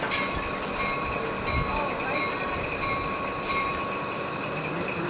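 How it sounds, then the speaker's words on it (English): A passenger train on the Sierra Railroad idles as its locomotive is uncoupled from a passenger car, giving a continuous rumbling, hissing engine drone with faint metallic squeals and clanks throughout. "Right now they're uncoupling the locomotive from the passenger car."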